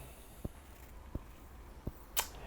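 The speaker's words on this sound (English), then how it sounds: "That was a water droplet." Three soft, evenly spaced water-drop plinks, followed by a brighter, sharper click, in a quiet room.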